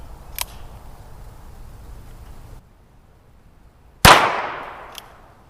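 A Ruger Wrangler revolver fired at an orange soda target outdoors: a faint crack early on, then after a quiet gap a loud close shot with a long ringing decay.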